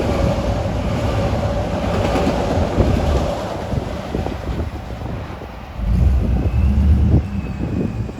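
An eastbound diesel commuter train bound for Oyster Bay rolls past a station, a loud sustained rumble with wheel clatter and wind buffeting the microphone, surging again as more cars pass.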